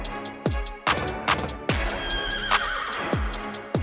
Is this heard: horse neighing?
yes